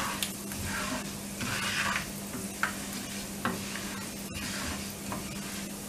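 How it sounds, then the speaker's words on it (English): Fenugreek seeds roasting briefly in a dry pan until golden give a soft continuous sizzle with scraping stirs and a few sharp clicks of the spatula against the pan, steady and close. "Only 1 minute of roasting we need. You can see this fenugreek seeds has turned little golden."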